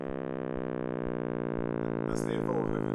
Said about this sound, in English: This is the sound of the sound waves